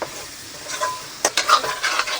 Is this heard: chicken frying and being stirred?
yes